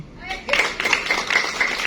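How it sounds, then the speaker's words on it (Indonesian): An audience at a business seminar breaks into clapping after a brief quiet start, a dense patter of many hands that carries on steadily to the end. "tepuk tangan dulu Pak Sarodi"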